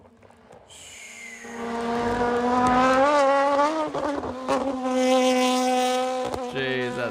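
A Nissan Z Nismo GT500 race car in Red Bull livery driving on a track, its engine note loud and rising through the gears, revving up with a shift and then holding a high whine as it passes close.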